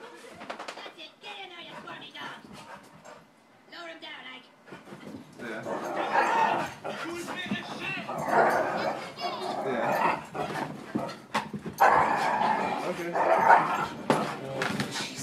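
A chocolate Lab and pitbull mix dog barks and yips in bursts, mixed with whimpers, heard close up among people talking over the dog.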